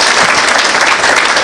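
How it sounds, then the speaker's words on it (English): An audience at a formal education event breaks into loud, close applause, dense clapping throughout the brief moment. "Let's give them a round of applause."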